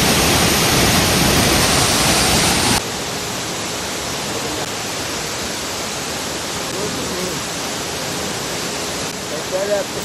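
Thalakona waterfall pours as a loud, steady broadband rush. It drops to a softer, more distant roar after a few seconds.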